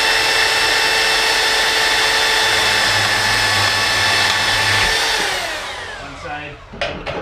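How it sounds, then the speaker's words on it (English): A portable band saw cuts through a steel steering link held in a vise, a steady loud whining drone with a constant pitch that winds down and stops near the end, followed by a few clanks. "Take the porta band, cut on my mark right to the outside of my mark."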